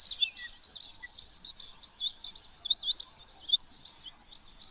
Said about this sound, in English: We've got some birds calling here too.